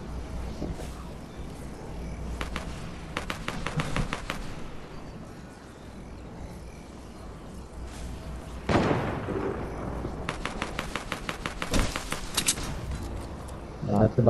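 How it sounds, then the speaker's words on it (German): Bursts of rapid Fortnite gunfire crackle in clusters, some sharp single shots and a louder blast, over a low game rumble with voices talking. "überall Schüsse"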